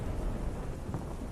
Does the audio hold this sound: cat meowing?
no